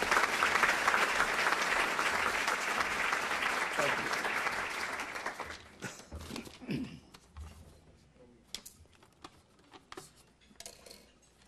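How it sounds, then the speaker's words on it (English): An audience at a prayer breakfast applauds, a dense and loud round of clapping that fades after about five seconds into scattered claps, cutlery and dish clinks, and faint murmuring. "So if we could have a round of applause for Rabbi Howard Simon."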